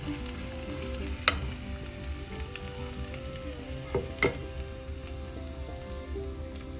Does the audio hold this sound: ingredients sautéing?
yes